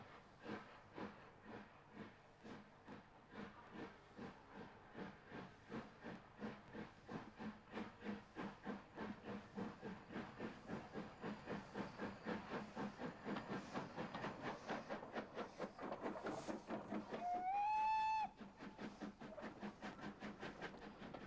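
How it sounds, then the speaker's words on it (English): An O gauge model LMS 4F steam locomotive pulling a pickup goods train with a brake van at the rear, rhythmic chuffing that quickens as it gets under way and a brief high whistle near the end. "The standard LMS brake van brings up the rear of the train as the 4F sets off"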